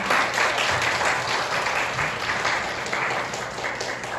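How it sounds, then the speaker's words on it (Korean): An audience at a global citizenship education lecture applauds to welcome the lecturer, giving dense, sustained clapping at moderate volume throughout with no talking. "큰 박수로 맞아주시기 바랍니다."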